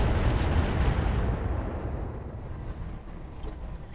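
Heavy mech weapons firing in the Roguetech BattleTech game during a desert mission: a loud, rumbling barrage of blasts that slowly fades, with faint high electronic tones near the end and no talking.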